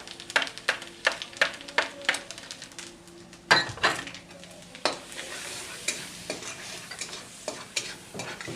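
Cumin seeds and chillies fry in hot oil for palak paneer, a steady close sizzle punctuated by rhythmic metallic clinks and scrapes of a utensil against the pan.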